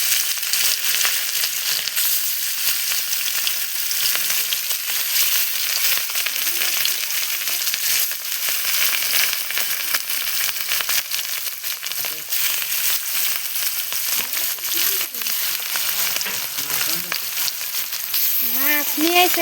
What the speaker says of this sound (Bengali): আমি তেলটুকু গরম হয়েছে, আমি এখন সব কটা মাছ একটা একটা করে দিয়ে দেব।